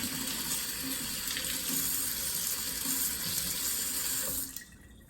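A flower stem is rinsed under a running kitchen tap, a steady, close splashing hiss of water that cuts off abruptly near the end, leaving quiet.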